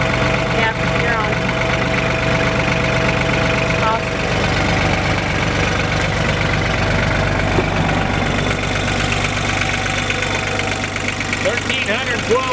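A John Deere 950 two-wheel-drive diesel tractor with a 3.2 engine idles steadily close by, a low, even rumble with faint knocking running the whole time while people talk over it.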